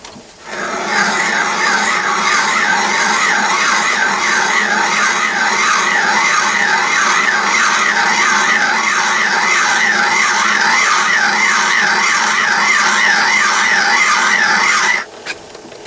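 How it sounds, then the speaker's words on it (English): A Myford lathe cuts a screw thread while its handle is wound by hand, giving a steady, loud, textured scraping and whirring with a regular repeating rhythm that runs continuously for about fifteen seconds and then stops abruptly. "that's thread cutting manually with the handle"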